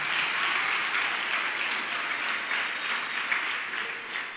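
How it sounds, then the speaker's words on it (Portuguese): A Portuguese-speaking congregation at a church conference applauds for Jesus, a loud, dense, continuous wash of clapping holding steady throughout. "Você pode aplaudir a Jesus, aleluia."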